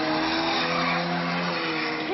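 Street drag racing cars on Pratt Street, an intersection shut down, skid with steady loud tire squeal and engine roar, a continuous screeching burst.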